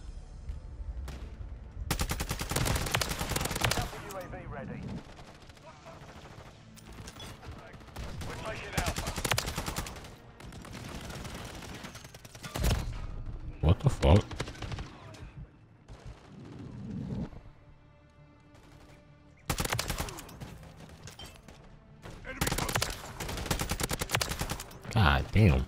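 Turret gunfire in the video game Modern Warfare 3: loud bursts of rapid machine-gun fire separated by quieter gaps, several sustained volleys across the stretch, with a player's voice talking at times between them.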